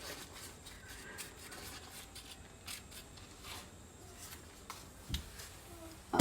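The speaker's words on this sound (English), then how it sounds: "Just rub this butter over it, and that will soften the tops up." Butter is rubbed over the tops of freshly baked homemade biscuits with a soft, steady brushing and scraping close by, ending in a few light clicks.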